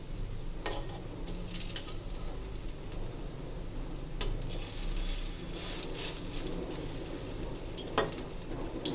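Fritters frying in hot oil in a home kitchen pan, a steady dense sizzle and crackle with a few sharper pops and ticks, close and fairly quiet, with no talking.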